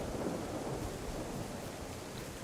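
Thunder rolling after a lightning strike in the survival video game DayZ, a steady loud broadband rumble with rain and wind texture running continuously throughout.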